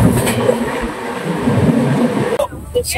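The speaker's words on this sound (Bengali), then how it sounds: "ট্রেন মেচেদা ছেড়ে দিয়েছে, এখন পরবর্তী গন্তব্য তমলুক" Tamralipta Express running on the Howrah-Digha line after departing Mecheda in light rain, a continuous rumbling rattle of the moving coach that drops off abruptly near the end, with a voice briefly audible.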